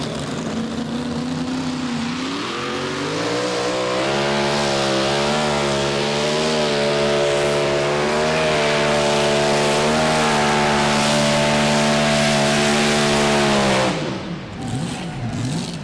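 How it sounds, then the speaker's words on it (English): A modified mini rod pulling tractor engine, 575 cubic inch limit, revs loudly and holds a steady, roaring drone, with rising pitch early on and a sudden cutoff near the end. "We're going to pull modified mini rods, Svan."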